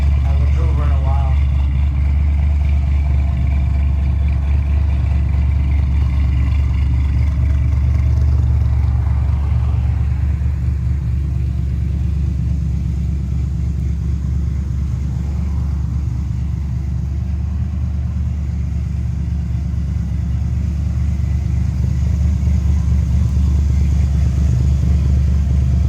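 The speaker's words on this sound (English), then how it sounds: "Top down, V8 rumble, long hood stretching out in front of you." A 1974 Chevrolet Corvette convertible with its V8 engine, a steady low rumble throughout while cruising with the top down, loud and continuous with faint wind and road noise and someone talking over it.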